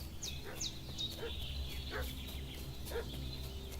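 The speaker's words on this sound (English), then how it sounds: "What's that dog making such a fuss about?" A dog barks in Kingdom Come: Deliverance II, a few evenly spaced yelps off in the distance over steady ambient game noise with chirping birds.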